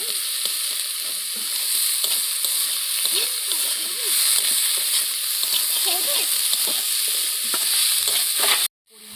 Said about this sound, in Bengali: তোমরা দেখতেই পাচ্ছ, এগুলোকে আমি হালকা করে ভেজে নেব।